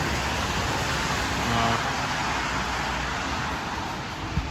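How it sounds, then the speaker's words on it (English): Steady wash of road noise from cars passing near MetLife Stadium as rain dies out, a constant broadband hiss with no voices. "You've got a lot of noise, road noise from the cars."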